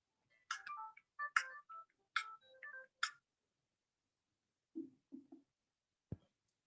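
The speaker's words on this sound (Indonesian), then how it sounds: "bentar saya kayaknya ada telepon" A telephone ringtone plays a quick melodic sequence of bright tones in four bursts, followed by a few softer low blips and a faint click, heard alone with no talk.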